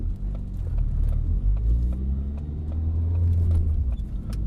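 A turbocharged Ford Fiesta ST, tuned to about 280 wheel horsepower, pulls hard in second gear near 4,000 RPM with traction control off. A close, steady engine drone and rumble carries through the whole clip without pause.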